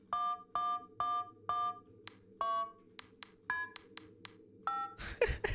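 An old Nokia-style phone in Five Nights at Freddy's: Into the Pit plays a run of about a dozen crisp dialing beeps, some longer and some short, ending in a burst of noise.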